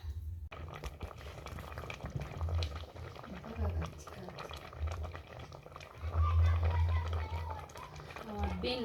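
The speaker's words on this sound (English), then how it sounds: "Our Grambeans are also here cooking." Mung beans boiling in a village cooking pot, with a low, steady bubbling that swells in waves under a person talking throughout.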